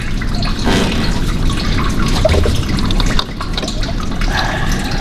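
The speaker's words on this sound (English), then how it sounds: "Here we've got a better flow going on, the dripping into the waste tray." Coolant from a Dodge Grand Caravan 3.6 V6 draining into a waste tray, giving a steady continuous splashing trickle of liquid, close and fairly loud throughout with no voices.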